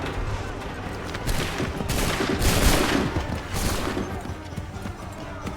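Soldiers fire a musket volley in Assassin's Creed 3, a dense crackling burst of overlapping shots that swells over a few seconds amid battlefield noise, with hoofbeats and shouted orders in the background.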